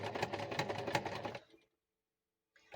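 A sewing machine stitches fabric for a junk journal cover in a rapid rhythmic run for over a second, then stops abruptly into near silence.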